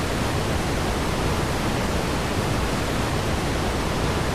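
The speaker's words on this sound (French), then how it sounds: "une cascade" A steady, dense rush of falling water from a waterfall in the horror video game The Mound: Omen of Cthulhu, holding at an even, fairly loud level throughout with no talk over it.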